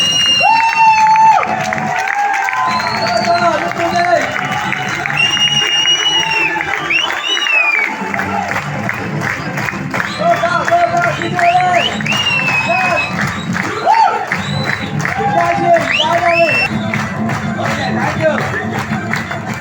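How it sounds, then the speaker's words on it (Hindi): A hall audience at a company event in Vashi gives sustained applause and cheering as a regional team coordinator is welcomed onstage, a dense steady wash of clapping with whoops and shouts, loud and close throughout, with voices mixed in. "प्लीज वेलकम द स्टेज जोरदार तालियों के साथ में।"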